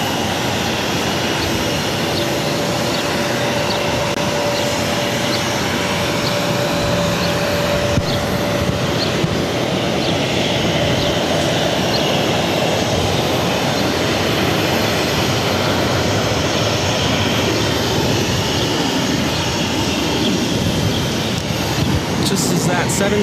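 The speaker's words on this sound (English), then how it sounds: "737-800 taking off to San Francisco, Alaska Airlines" An Alaska Airlines Boeing 737-800 takes off from Boston Logan bound for San Francisco, a steady, broad engine roar holding at even strength throughout, with a faint thin whine drifting over the top.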